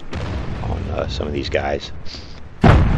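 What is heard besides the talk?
tank gun shots in video game World of Tanks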